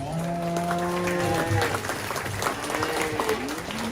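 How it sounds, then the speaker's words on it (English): A round of applause for the judges at the 2024 Shelby County Fair 4-H calf show, moderate clapping from a crowd in a large space, with tonal noises and voices mixed in. "if we could give them a round of applause"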